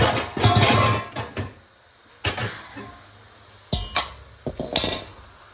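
Ho fun rice noodles with beef are tossed and mixed in a wok, with bursts of scraping and clanking from the pan and utensil, irregular and close, broken by quiet gaps.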